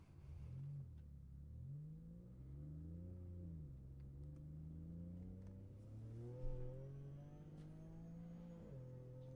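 Toyota GR Supra and Cadillac CTS in a roll race, engines accelerating with rising and falling pitch through gear changes, a steady moderately distant drone heard alone.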